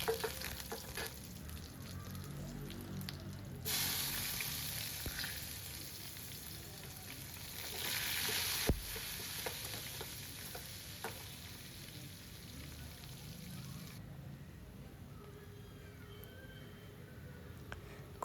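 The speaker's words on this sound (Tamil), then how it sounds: "ஒரு கடாயி, அதில் வந்து கடுகு உளுத்தம்பருப்பு போட்டு அது வந்து பொரியவும் நான் அது கூட வந்து வெங்காயமும் கருவேப்பிலையும் சேர்த்துக்கிறேன்" Mustard seeds, urad dal, onion and curry leaves sizzle and crackle in hot oil in a kadai, a steady close frying hiss with occasional popping and the scrape of stirring, no talk.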